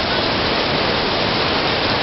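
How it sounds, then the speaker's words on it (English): Heavy rain pouring down at an outdoor event under a large tent, a dense, loud and unbroken hiss filling the whole stretch with no voices. "look at this rain, oh my lord"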